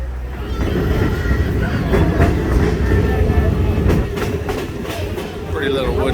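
A Buckingham Branch Railroad passenger train with 1920s-built cars rolls along the tracks through central Virginia, a steady rumble with rhythmic wheel clatter, heard from on board.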